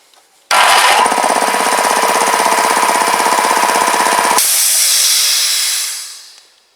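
An air compressor starting on a cold October day runs loudly and steadily with a hissing, pounding drone for several seconds, then cuts off, leaving a fading hiss of released air.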